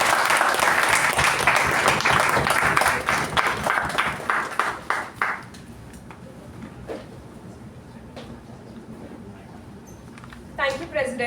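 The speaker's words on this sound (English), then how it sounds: "let's welcome the Master of Ceremonies for the day, Toastmaster Sharanye, with a big round of applause" Audience applause at a Toastmasters club installation ceremony welcoming the Master of Ceremonies: a dense burst of clapping for about five seconds that thins into scattered claps, with a brief clap flurry near the end.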